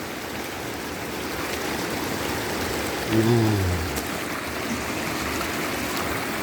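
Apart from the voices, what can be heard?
river stream flowing past rice fields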